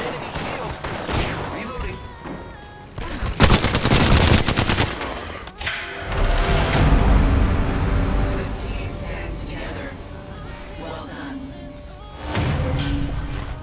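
Rapid automatic gunfire in the video game Apex Legends during a ranked arena match, loud sustained bursts of machine-gun fire with pauses between them, mixed with game effects and a voice talking.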